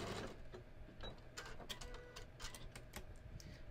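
Sewing machine stitching a pocket onto a skort, a steady mechanical whir with fast rhythmic ticking clicks, close and moderately quiet.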